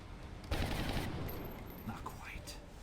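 A sudden burst of gunfire in the video game XCOM: Enemy Within with the Long War mod, a loud volley that quickly decays into quieter game effects and background noise.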